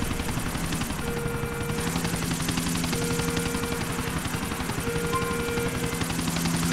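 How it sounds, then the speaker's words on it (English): Helicopter in the video game GTA: The Ballad of Gay Tony, a steady loud rotor drone with dense chopping pulses and engine whine running unbroken throughout. "He's taking the chopper."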